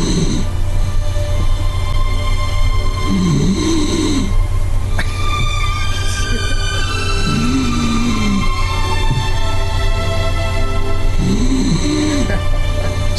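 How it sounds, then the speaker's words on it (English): Schnauzer dog snoring played in a relaxation app, four separate low rumbling snores spaced a few seconds apart, clear and close, over a steady background hum with faint higher tones. "you listen to Max's schnauzer snoring, and you snore your own stress away"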